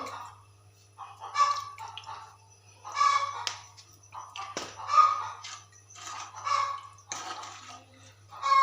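Salted water in a pot for river fish curry bubbles and gurgles at a steady rolling boil, in repeated close bursts roughly every second, with no talking.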